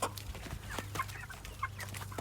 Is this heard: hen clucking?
yes